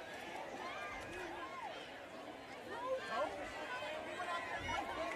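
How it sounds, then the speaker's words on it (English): Crowd noise from full stands at a high school football game, a steady outdoor roar of distant cheering and chatter with faint whistle-like tones, swelling slightly midway. "This crowd is unbelievable tonight, John."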